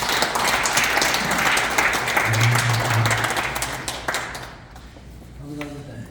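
Audience applause for a chairman at a research presentation, a brisk burst of many hands clapping that holds for about four seconds then fades, with a voice briefly emerging as it dies away.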